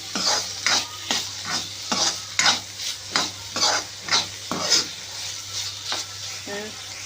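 Snake gourd sautéing with garam masala and salt in a pan, rapid rhythmic stirring strokes scraping close over a soft continuous sizzle.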